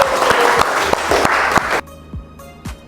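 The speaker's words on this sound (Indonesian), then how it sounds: "Tepuk tangannya buat kita semua" Audience applause after a lecture presentation: a short burst of clapping with distinct individual claps, cutting off abruptly and followed by two or three scattered final claps in near silence.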